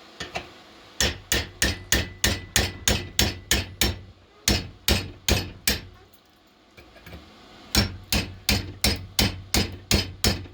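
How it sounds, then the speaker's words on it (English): A hammer chips welding slag off steel during fabrication of a homemade Ford Ranger tailgate handle: a steady run of about thirty sharp metallic strikes in two quick bursts with a short pause between, close and loud. "But chip that slag off because it's a lot easier to chip it off than it is to grind it off."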